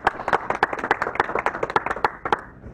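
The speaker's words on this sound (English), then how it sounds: "a quick round of applause for them" A seminar audience gives a quick round of applause, with a modest crowd of distinct, fairly close hand claps in an uneven patter that fades slightly toward the end.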